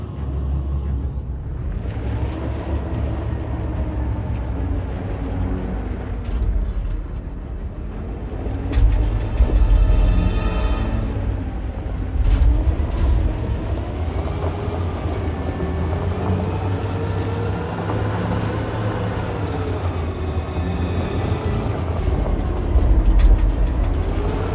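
A truck ramming a store in a video game, a loud, sustained engine roar with rising and falling whines and hissing, heavy and close throughout without speech.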